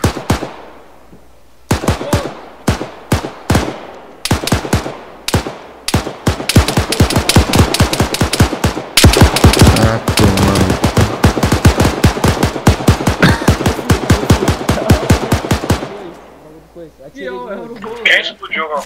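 Video game firing squad execution: long bursts of rapid gunfire crack out in dense, loud volleys for about fifteen seconds, starting with scattered single shots and ending in quieter game sounds.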